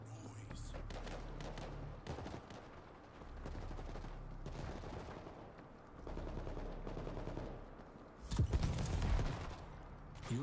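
Bursts of heavy weapon gunfire in a World War Z PvP match, rattling in repeated volleys with a louder, denser barrage near the end, mixed with game noise and faint voices.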